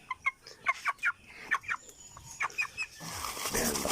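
A young gamefowl pullet clucks in a series of short, close, sharp calls at an irregular rhythm, followed by a soft rustling.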